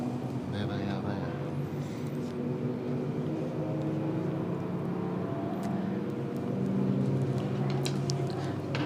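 Race cars circulate at Queensland Raceway during an enduro, a steady engine drone and roar holding throughout with a slight swell near the end, while a commentator talks over it.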